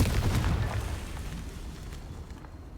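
A Confringo fire spell bursts in Hogwarts Legacy, a loud booming explosion that hits hard at the start and rumbles off into a fading roar.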